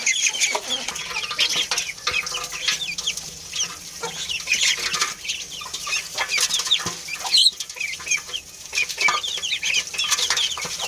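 A flock of chickens clucking and chattering continuously nearby, with scattered sharp pecks and occasional wing flutters.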